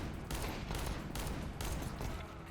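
R8 Revolver firing in the video game CS2, a few rapid bursts of loud gunshots with short gaps between them, close and sharp.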